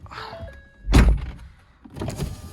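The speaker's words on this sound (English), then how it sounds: "Let's close this door." A Ford Fiesta ST door swinging shut from inside the car, one solid low thunk after a short mechanical whir, followed by a quieter rustling movement.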